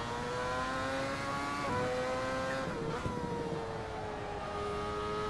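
A Lotus Exos 125 race car laps Mugello in the Assetto Corsa game, its engine note whining steadily and shifting pitch as it accelerates and eases through a corner, loud and continuous without talk.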